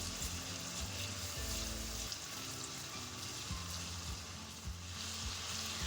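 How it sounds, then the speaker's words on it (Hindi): Steady sizzling of garlic ginger paste frying in a hot pan, continuous and close, with occasional low clinks of stirring. "लहसुन अदरक का पेस्ट डालने के बाद इसको 1 मिनट के लिए और भूनूंगी"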